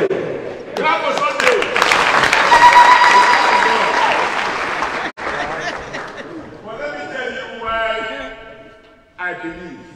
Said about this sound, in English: Clap for Sunday.